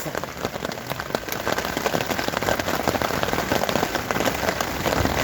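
Rain falls hard and constantly, a thick patter of drops on nearby surfaces, loud and unbroken for the whole stretch.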